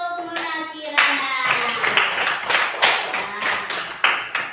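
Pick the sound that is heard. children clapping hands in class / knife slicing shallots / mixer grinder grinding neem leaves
children clapping hands in class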